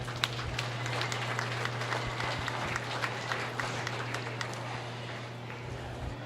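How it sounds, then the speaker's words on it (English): An audience at a county fair swine show claps for the exhibitors, a moderate, scattered applause with a steady low hum underneath that continues evenly throughout. "Let's give all these exhibitors a round of applause."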